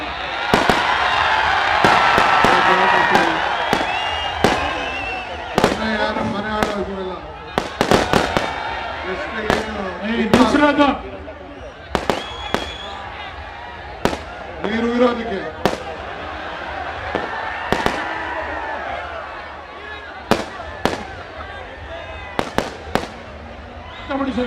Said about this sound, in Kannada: ಭಾಷಣ ಮಾಡ್ಬೇಕಾದ್ರೆ ಪಟಾಕಿಗಳು ಸಿಡಿಸಿರೋದು ಅವ್ರಿಗೆ ಕಿರಿಕಿರಿ ತಂದಿದೆ